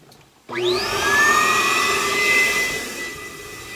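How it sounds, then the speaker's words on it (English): A koi pond filter blower motor switches on abruptly and spins up to a loud, steady whine with a rising pitch, then keeps running continuously nearby. "So basically I'm opening to the blower, and I'm going to turn on the blower."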